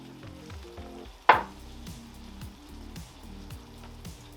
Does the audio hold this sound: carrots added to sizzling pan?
yes